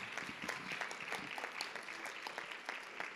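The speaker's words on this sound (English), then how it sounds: "Give her a round of applause." Audience clapping at a school board of education meeting, a quiet, steady patter of many hands heard from a distance, fairly faint, without talk over it.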